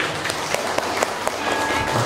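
An audience at a Buddhist monastery gathering claps together, a steady crowd applause with a few sharper individual claps standing out, moderately loud and continuous throughout.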